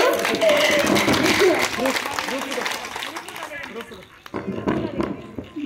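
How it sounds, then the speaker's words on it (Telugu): A church audience clapping for a youth Christmas skit: scattered clapping under a speaking voice, fading out midway, then a short burst of renewed clapping near the end. "క్లాప్స్ కొట్టరా మాకు"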